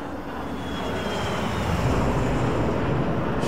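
A Boeing 737-300 in X-Plane 12 flies through weather as a continuous loud, broadband roar of engines and wind, steady and close, with a faint whine riding on top.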